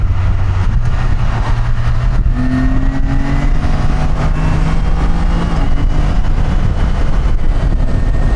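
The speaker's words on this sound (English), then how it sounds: "there's a car." A car passes along a Comal County, Texas road, a steady loud rolling engine and tyre rumble with a low drone rising in pitch, heard close and without talk.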